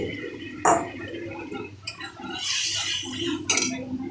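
Food stirred in a cooking pan with garlic and ginger water about to go in, giving scattered close clinks and scrapes of a utensil against metal over a soft background hiss, with a few louder knocks.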